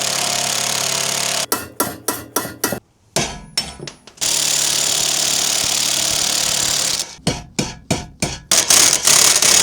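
An impact wrench drives lug nuts onto a wrecked Honda Fit wheel with fitted new studs: two loud, close clusters of rapid hammering bursts, separated by a steady motor whine.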